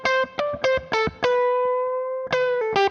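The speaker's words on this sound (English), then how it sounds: "this other push saturated sound on the back that help you with the sustain" Guitar played through a Michelangelo Dophix overdrive pedal with the blend at 50%, giving clear picked attacks over a saturated, sustaining tone: a few short chord stabs, one long ringing held chord, then more rhythmic stabs, loud and close.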